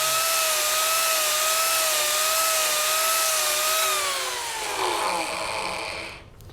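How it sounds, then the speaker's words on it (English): A Mini Turbo power carving tool removing wood freehand gives a loud, steady high whine with a grinding edge that shifts in pitch and winds down near the end. "the Mini Turbo can be used for completely freehand work, just to remove wood wherever you want"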